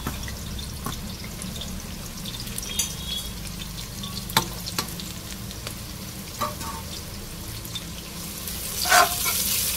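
Three large chopped onions fry in hot oil with curry leaves for a mango mutton curry, giving a steady, close sizzle with scattered stirring clicks and a louder crackling burst near the end.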